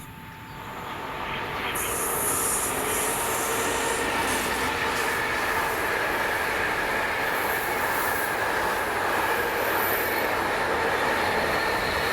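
Freight train hauled by Class 88 locomotive 88003 passing in Scotland: a loud, continuous roar of wheels and wagons builds in over the first two seconds and stays steady, with a high squeal of wheels on rail above it and no voices.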